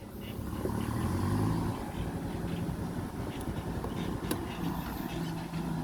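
A tractor engine runs steadily with a low rumbling drone, close and continuous, with occasional faint clicks and knocks.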